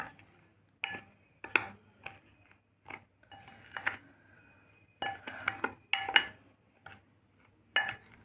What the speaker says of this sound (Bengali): এবার শুকনো উপকরণগুলো মিশিয়ে নিচ্ছি।